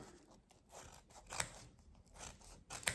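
Scissors snip through soft dough to shape small Sardinian almond sweets, with two crisp, close cuts standing out over quiet handling noise.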